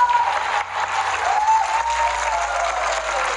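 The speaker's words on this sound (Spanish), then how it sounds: "mi amor y mi cariño, aplausos." A studio audience at a Spanish-language talk show claps in a steady, lively burst of applause that carries on throughout, close and fairly loud, with no talking over it.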